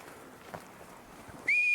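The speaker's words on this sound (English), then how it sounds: "They literally surrounded me with the whistles." A single sharp whistle from the woods rings out near the end, clear and steady after a quiet, faint outdoor background.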